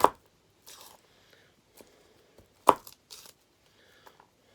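A kitchen knife strikes a chopping board while cutting garlic, a few sharp, uneven knocks with scraping and rustling between them, close and clear, with no talking.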